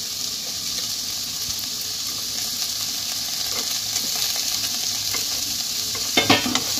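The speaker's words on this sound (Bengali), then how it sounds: "এবার মটরশুঁটিগুলো এর সঙ্গে ভালোভাবে নেড়ে চেড়ে নেব, একটু ভাজা ভাজা হতে দেব" Carrots, beans and peas stir-fry in a pan for veg fried rice, giving a steady, close sizzle throughout, with soft stirring scrapes and a few louder knocks near the end.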